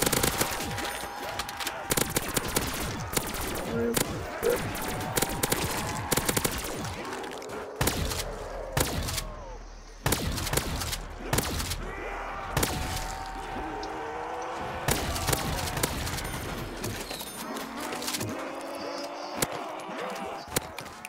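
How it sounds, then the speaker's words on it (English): Rapid bursts of automatic gunfire from a cloned gun in the Black Ops 3 zombies game crackle nearly nonstop, loud and dense, with game effects layered underneath. "spawns a clone of the gun and it just shoots."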